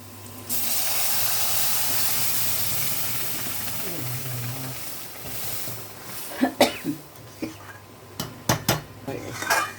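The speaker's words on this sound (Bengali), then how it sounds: "এবার ডাল চলে যাবে।" Cooked masoor lentils poured into hot oil with fried onions, a loud steaming hiss that fades, followed by clinking and knocking of a pot and utensils.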